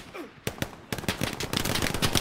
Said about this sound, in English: The airhead is being covered by an MG from the windmills.